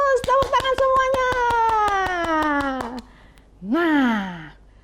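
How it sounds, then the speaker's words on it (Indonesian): Children clap hands in a quick run of sharp claps over a sustained, falling sung or wailed voice, then a second rising vocal swoop follows. "Tepuk tangan semuanya."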